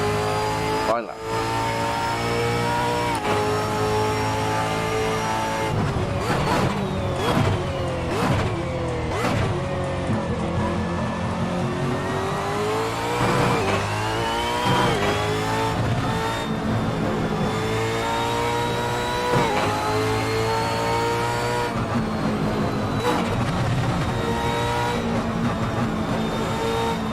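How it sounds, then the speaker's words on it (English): A V8 Formula 1 race car engine in a racing video game revs loudly and continuously, its pitch climbing and falling through gear changes with mechanical pops, while a person talks over it. "It's those pops, those noises, pure mechanical noise of that V8."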